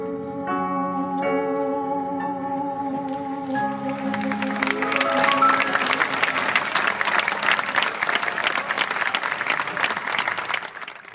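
Thousands of spectators applaud at the Byblos International Festival, loud, dense clapping that builds after a few seconds of fading sustained music and continues unbroken to the end.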